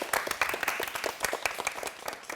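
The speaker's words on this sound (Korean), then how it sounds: "다시 한번 박수로 맞이해 주시면 고맙겠습니다." An audience at a Korean ICT conference claps to welcome a panel speaker to the stage, a moderately faint, scattered patter of many hands that continues without a break.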